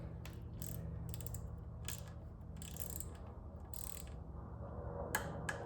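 Torque wrench set to 5 newton meters clicking as it snugs down a bolt on a 79Bike Falcon Pro e-bike during throttle replacement; faint repeated clicks and ratchet ticks over a steady low hum, close by.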